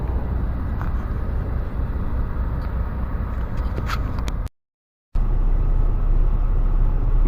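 A Peterbilt truck's engine rumbles steadily and loudly up close during a test drive, a continuous low drone that cuts out briefly before resuming at the same level.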